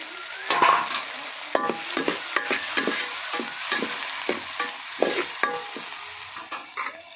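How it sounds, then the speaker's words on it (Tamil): Tomatoes tossed into onions already frying soft in a pan, with a steady sizzle under repeated spoon scrapes and stirring strokes, close and moderately loud, no talking. "வெங்காயம் நல்லா வதங்கிடுச்சு அதுக்கு தக்காளி போடுறேன்"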